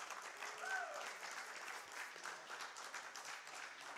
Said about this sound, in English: That's applause time.